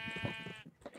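Sheep bleating in the Minecraft modpack Feed The Beast: a single wavering, nasal bleat lasting most of a second, close and fairly loud, with no talking over it.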